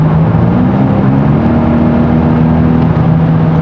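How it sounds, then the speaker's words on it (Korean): A Kia K5 1.6 gasoline turbo sedan engine above 2000 rpm gives a steady, loud, bassy hum with a low droning tone throughout, heard from inside the car while driving, with no talk. "이렇게 한 2000rpm이 넘어가면은 우웅하고 베이스 톤이 좀 깔리고요"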